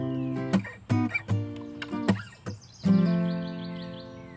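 Electric guitar plays the verse part of a song, with plucked chord stabs, quick hammer-on fills and slides, ending on a ringing sustained chord, played alone.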